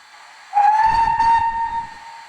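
A steam locomotive whistle sounds one long, loud, steady toot close by, starting abruptly and holding its pitch for nearly two seconds with a low rumble beneath.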